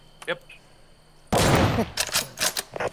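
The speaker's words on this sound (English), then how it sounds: "Grenade launcher." In the video game Deadside, a grenade launcher fires and unleashes a sudden loud roaring blast burst, then a run of heavy pulsing booms, after a brief faint voice in a quiet moment.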